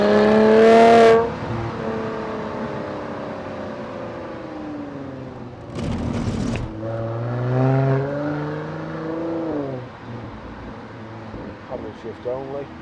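A 2016 Mercedes-AMG C43 4MATIC 3.0 engine revs and drops through gear changes made with the paddle shifters in manual mode, its tone sweeping up and down in several steady pulls, with a short loud burst partway through.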